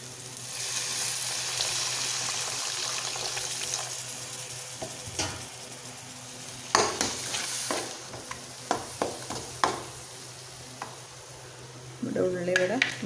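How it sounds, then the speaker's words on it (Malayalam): Squeezed tamarind water is poured into a simmering fish-head curry with tomato. A steady frying sizzle comes first, then a run of stirring scrapes and clinks against the pan, close and moderately loud, with a brief murmur near the end. "നമുക്ക് പിഴിഞ്ഞെടുത്ത പുളിയുടെ വെള്ളം ഒഴിച്ചു കൊടുക്കാം"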